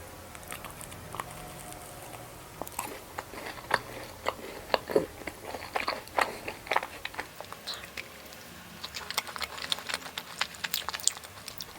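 A berry yogurt macaron studded with chocolate-ball pieces is bitten and chewed close to the mic, giving a run of crisp crunches and soft wet chewing clicks with no talking.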